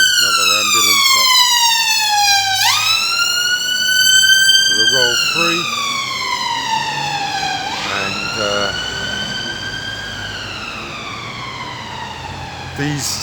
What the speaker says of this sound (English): Here we go, another ambulance up